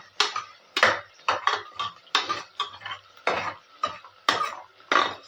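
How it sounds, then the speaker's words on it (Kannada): Onions with salt stirred in a pan over high heat for tomato rice: repeated scraping, clinking strokes of a utensil against the pan at a steady rhythm, close and fairly loud, with no talking. "ಉಪ್ಪನ್ನ ಹಾಕೊಂಡಾದ್ಮೇಲೆ ಫ್ರೈ ಮಾಡ್ಕೊಳ್ತಾ ಇದ್ದೀನಿ"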